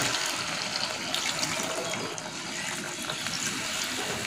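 Hot water pours into a cooking pot while local green chicken curry is being made, giving a steady close splashing gush that runs unbroken throughout at moderate loudness.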